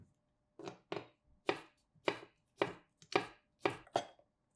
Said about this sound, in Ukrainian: Помідори наріжте соломкою, обрізаючи серцевину, щоб у шаурмі було менше вологи.